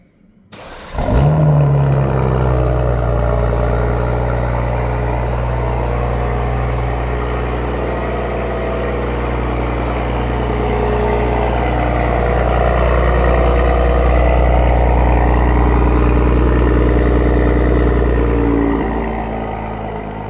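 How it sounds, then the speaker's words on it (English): A BMW M340i with an M Performance muffler cold-starts by remote: a sharp starter crank and loud flare, then a steady, deep rumbling idle that holds close and constant before easing slightly at the end, with no talking. "Let's do a little remote engine cold start with that M Performance muffler"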